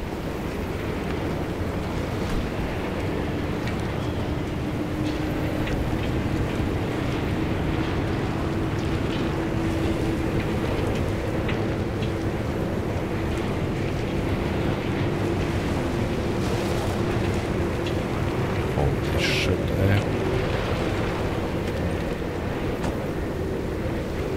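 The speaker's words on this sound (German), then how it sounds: "Das ist einfach nur ein Orkan." Strong hurricane-force wind storm in Pacific Drive, a continuous roaring gusty wind that stays loud and dense throughout, with a faint hum underneath and no voices.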